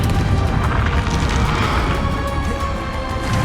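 A Confringo explosion spell in the Hogwarts Legacy video game sends out a loud, dense crashing blast that roars continuously before easing off slightly toward the end.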